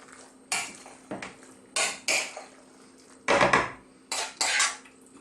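A spoon mixes chilli beef pasta sauce in a dish, giving a series of separate clinks and scrapes of metal against the container in irregular bursts, close and fairly loud.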